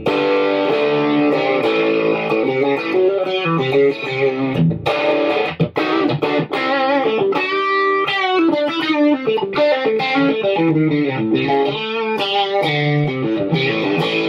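A Telecaster electric guitar played through a distortion pedal into a clean amp, distortion set around one o'clock; continuous chords and note runs ring out loud and alone with a gritty, saturated edge.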